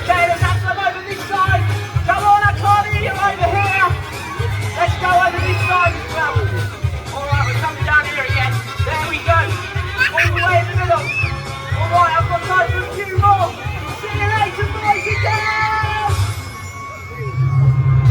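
A Christmas pantomime audience at Chessington screams and yells for sweets in a loud, sustained roar of many voices that fills the whole stretch, with cheers and whoops rising above a steady low rumble.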